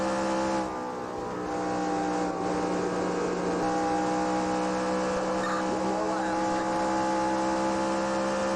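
A NASCAR race car engine under throttle in NASCAR Racing 2003 at Texas, heard as a steady, loud, close mechanical drone that holds throughout while someone talks over it.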